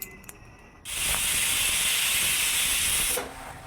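A pressure cooker cooking mutton biryani lets out a loud, close steam whistle. The sharp hiss bursts in suddenly, holds steady for over two seconds, then cuts off.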